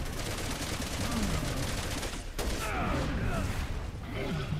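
Sniper gunfire in a video game, a steady wash of shots and bursts running throughout under a voice talking, loud and close.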